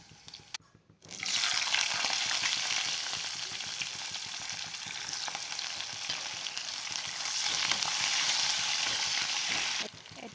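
Onions fry in a pan with a loud, dense, continuous sizzle that starts abruptly after a brief quiet moment and holds steady, close up, with no talking.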